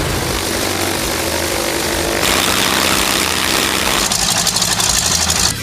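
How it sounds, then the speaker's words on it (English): A real vintage warplane engine from the mid-1930s to early 1950s roars steadily at a museum of combat aircraft, a loud continuous propeller drone that swells in intensity partway through, heard alone. "Now, the engine roars so that you can climb to the sky and lose your pursuers."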